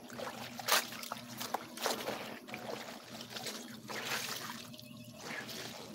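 Splashing and trickling water as heavy, soaked laundry is lifted out of water and drips, close by, with a low steady hum underneath.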